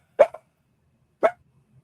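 A dog barks twice, sharp and close, about a second apart, in an otherwise quiet room.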